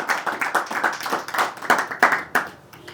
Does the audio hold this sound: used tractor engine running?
no